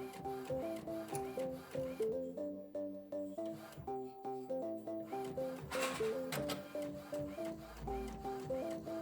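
A printer prints mirrored sublimation journal pages, its mechanism running in a steady repeating rhythm of whirring passes with tonal motor whines throughout.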